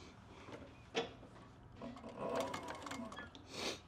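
A leather sewing machine stitches two pieces of leather together in short, uneven bursts of mechanical chatter, with brief pauses and handling knocks between runs.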